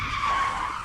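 A car skids during a traffic accident, a sustained loud tire screech with a steady harsh squeal across the whole moment, no voices.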